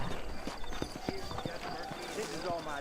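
Horse hooves clip-clop in a steady trotting rhythm in Red Dead Redemption, with a voice speaking over them and a brief whinny.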